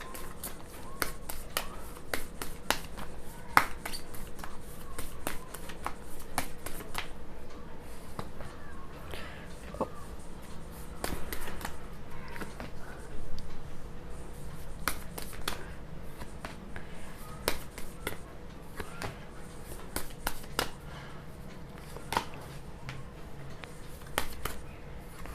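A deck of tarot cards is shuffled in a quiet room, giving soft repeated flicks and snaps in an irregular rhythm, close but faint.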